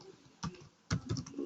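Typing on a computer keyboard while building an employee management web app, a few quiet clustered key clicks with short pauses between them and no voice over them.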